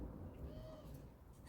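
Turtle doves cooing outdoors, a faint, soft low call carried through steady background noise, with no voices.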